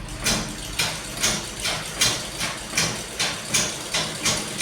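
A sewing machine stitching cloth runs in a regular pulsing rhythm, roughly two strokes per second, close by and moderately loud, with no voices.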